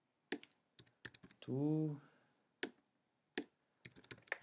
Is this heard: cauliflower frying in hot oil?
no